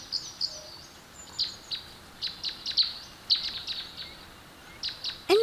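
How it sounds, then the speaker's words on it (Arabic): Small birds chirp in short, scattered bursts against a quiet background, the calls fairly close and repeated irregularly, with a brighter call near the end. "الآن نحن هادئون، يمكننا سماع العصافير."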